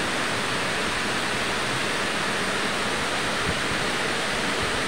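Water gushes from sixteen open sluice gates at a Balasore district reservoir dam: a dense, steady, loud roar with no break and no voices.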